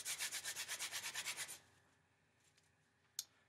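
Lacrosse mesh rubbed against itself to loosen factory glue, producing about a dozen quick rhythmic scratchy swishes for a second and a half, then near silence broken by one small tap.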